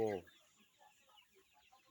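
A Thai chicken gives a short, sharp cluck at the start, followed by faint scattered bird chatter and quiet background noise.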